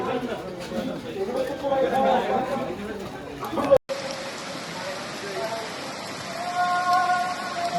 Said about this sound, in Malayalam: പൊരിഞ്ഞ മഴയാണ് പൊരിഞ്ഞ മഴ